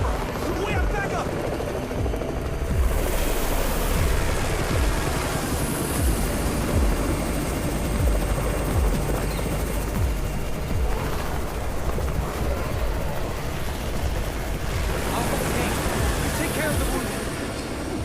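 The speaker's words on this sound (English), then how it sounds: "It's the Raven's chopper! We have backup!" A helicopter in the video game Undawn thrums steadily and loudly throughout, mixed with game rumble and effects, growing fuller as it draws near.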